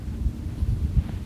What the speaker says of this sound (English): Wind's coming right to left.